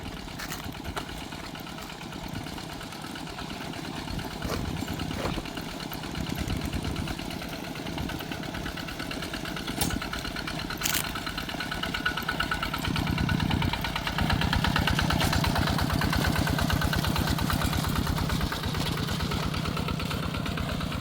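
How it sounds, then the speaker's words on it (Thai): Two farm tractors plowing a rice field, their engines running in a steady, rattling drone that swells louder partway through, mid-distance with no talking. "มื่อนี้คนหลายก็เลยรถไถสองคัน"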